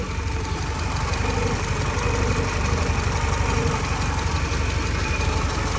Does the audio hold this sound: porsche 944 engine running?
yes